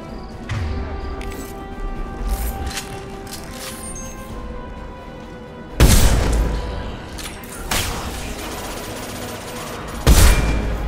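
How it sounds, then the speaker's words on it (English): Unstable crates detonate during a firefight in Mass Effect 2, producing loud close booms at about six and ten seconds over a continuous bed of gunfire and combat noise. "A misplaced shot could cause a significant explosion."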